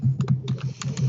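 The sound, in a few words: computer keyboard typing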